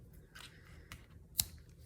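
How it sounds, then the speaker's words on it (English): Scissors snip through craft paper in a quiet room, a few faint close cuts ending in one sharp, louder snip. "I'm gonna cut it"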